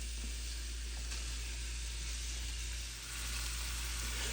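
Sausage sizzles steadily in a hot pan as it starts cooking for American-style lasagne, a constant close, loud hiss with no talking over it.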